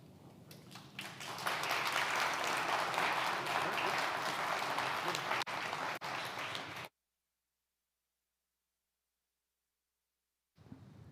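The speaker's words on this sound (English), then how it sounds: "Somebody give Alder Johnson some oxygen and a round of applause." Audience at an On Broadway event breaks into loud, sustained applause lasting several seconds, then cuts to silence before a brief return of clapping at the end.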